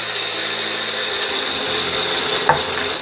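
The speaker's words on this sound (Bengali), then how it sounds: "পেঁয়াজটা গোল্ডেন ব্রাউন করে ভেজে নেব" Chopped onions fry with bay leaf and whole spices in a pan for a restaurant-style white mushroom curry, giving a steady, close broadband sizzle with a brief clatter of stirring near the end.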